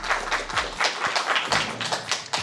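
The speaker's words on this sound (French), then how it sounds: "Donc vous pouvez vous applaudir." A small audience applauds in a private cinema screening room, the claps dense and steady but fairly light and quick, with a few louder taps standing out over the short burst.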